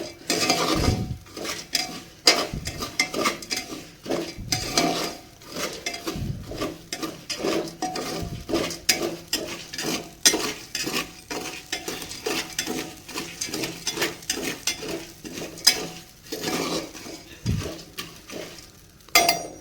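Black chickpeas roast dry in a pressure cooker without sand, stirred constantly so a spoon scrapes and clatters against the metal in quick rhythmic bursts over a faint sizzle, with no voices.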